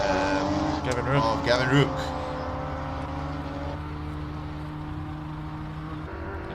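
Classic Porsche race car climbing the Simola hillclimb, its engine droning steadily at a distance under a commentator's voice and crowd ambience, with a brief swell early on.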